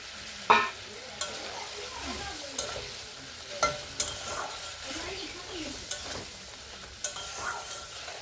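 Fried eggplant pieces stirred into curry gravy in a pan: a steady soft sizzle with scraping spoon strokes and occasional sharp clacks against the pan, close up, no talking.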